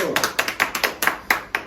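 A small group of labour union members claps together in sharp, rhythmic unison, about nine crisp beats in under two seconds, close and evenly spaced.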